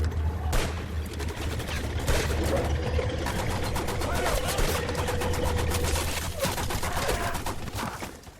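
Rapid bursts of gunfire crackle continuously, with sharp shots layered over a dense, loud background and shouting voices mixed in.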